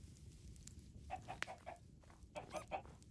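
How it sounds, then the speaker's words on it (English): Several short clucks from Minecraft video game chickens, spaced unevenly over a low background hum, fairly quiet and with a brief sharp click in the middle. "There's some chickens."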